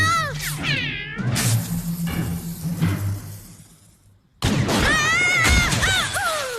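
A cartoon cat meows loudly several times in drawn-out, wavering cries, with a crash-like burst and a brief silence between calls.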